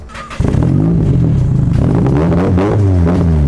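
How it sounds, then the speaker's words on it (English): A Japanese car with an SR engine cranks briefly and catches at once, settling into a loud, close, steady idle with a throaty rumble and slight revving. "We give it a start up? See if she starts up first time."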